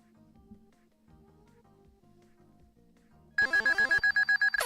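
A phone ringtone suddenly bursts in, loud and close, with a rapid repeating electronic trill in regular pulses, following a stretch of quiet low background sound.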